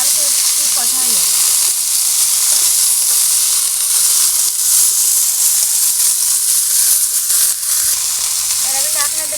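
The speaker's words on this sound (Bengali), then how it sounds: "এবার আমি ওই কাঁকড়ার সাথে শাক কটা ভালো করে একটু কষাই নেব।" Greens stir-fried with crab and lentil dumplings in a pan, a steady loud sizzle with hiss and stirring scrapes throughout, a faint voice briefly in the background.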